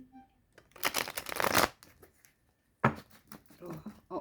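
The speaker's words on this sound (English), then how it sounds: "you know, the shuffling." Someone shuffles a deck of playing cards in two bursts of riffling, close and fairly loud, with a short pause between them. No speech is heard during the shuffling.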